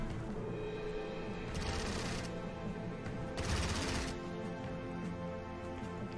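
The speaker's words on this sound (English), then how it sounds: "It's an anti-aircraft gun." Continuous dense rattling fire from an anti-aircraft gun in the strategy game Strategic Mind: Blitzkrieg, Battle of Britain mission, with two brighter bursts of louder shots standing out over a steady roar of battle.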